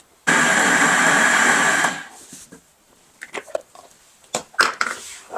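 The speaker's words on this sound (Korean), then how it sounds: "생강은 조금 입자를 곱게 갈아주세요." A kitchen blender runs loud and steady for about a second and a half, finely grinding ginger for kimchi, then cuts off and leaves scattered small clatters and knocks.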